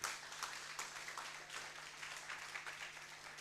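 Audience clapping at a talk session, a soft continuous patter of many hands heard from a distance, fairly faint, with no voices over it.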